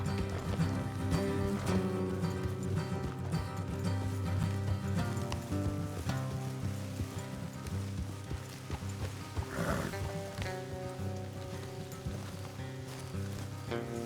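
Horse hooves clip-clop steadily, trotting over a continuous musical backdrop with occasional snorts and rustles, from the video game Red Dead Redemption 2.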